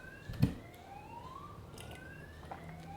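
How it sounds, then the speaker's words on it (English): A faint, distant siren wails with slowly rising and falling tones, and a brief thump sounds nearby early on. "I apologize for the sirens and construction."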